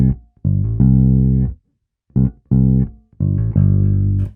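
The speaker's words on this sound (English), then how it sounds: "this is a bass groove which works largely with the kick drum" Funky blues bass guitar groove, with short punchy low notes and slides played in syncopated phrases separated by brief gaps, loud and close with no other instruments.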